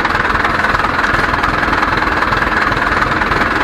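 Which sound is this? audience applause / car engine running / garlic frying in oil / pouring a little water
car engine running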